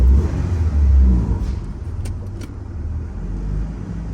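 A 1991 Honda Integra DA9 with a B18C1 engine accelerates, heard from inside the moving car. A heavy engine rumble swells and then eases off, with road noise beneath it and brief clicks partway through.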